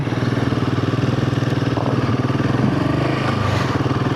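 A Royal Enfield Himalayan 450 motorcycle engine running, a loud close steady thumping pulse with a slight rise in revs partway through, no voices.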